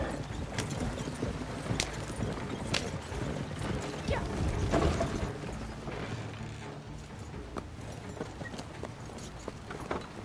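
A horse-drawn wagon rolls along in Red Dead Redemption 2, with steady clip-clop hoofbeats over creaking, rattling wheels and harness, moderately quiet and continuous.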